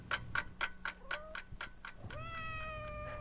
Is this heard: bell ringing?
no